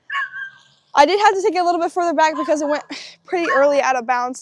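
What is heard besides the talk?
dogs barking nearby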